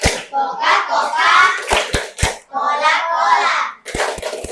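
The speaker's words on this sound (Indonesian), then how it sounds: "jadi kita tepuk Coca-Cola dulu sebelum istirahat" Children in a classroom perform a rhythmic clapping chant, their voices chanting in unison between sharp, close handclaps that land in quick sets of two and three.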